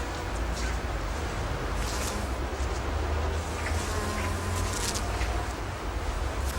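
A steady, dense buzzing of many bees close by, feeding on Himalayan balsam flowers in Highgate Wood, continuous and loud with no pauses.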